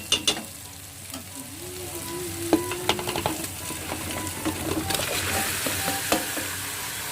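Pieces of country chicken dropped into a cooker and stirred, sizzling and scraping steadily at close range with a few sharp clinks of the spoon, no one talking.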